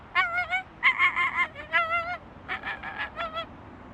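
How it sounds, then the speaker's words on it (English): An American flamingo gives a rapid series of nasal, goose-like honks in uneven bursts, close and moderately loud with no talk. "The American flamingo."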